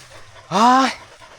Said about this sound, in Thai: เล่นจนหอบหืดเลย